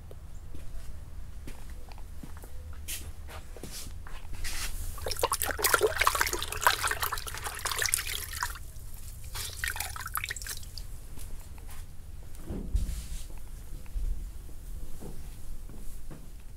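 Water and a rag wiping sanding paste off black car paint, heard as a steady close wet swishing and dripping with scattered soft taps and rubs, louder in the middle.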